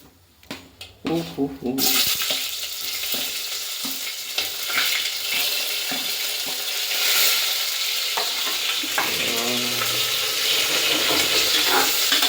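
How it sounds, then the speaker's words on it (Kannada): Sliced onions dropped into hot oil in a pan for biryani, a few soft clunks then a loud continuous sizzle with occasional stirring scrapes, close up. "ನೆಕ್ಸ್ಟ್ ಒಂದು ಬಂದ್ಬಿಟ್ಟು ಈರುಳ್ಳಿನ ಹಾಕೋಬೇಕು."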